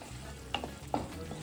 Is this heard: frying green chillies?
yes